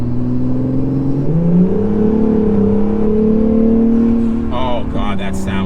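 An Acura NSX engine on a test drive hums at a steady pitch, then climbs as it revs up and holds a strong, loud drone. The pitch drops near the end, and voices come in briefly over it.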